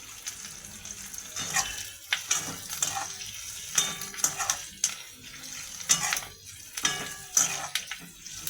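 Onions and capsicum fry in a pan for chili chicken while being stirred, giving a soft steady sizzle broken by repeated scraping and clinking of a spoon against the pan.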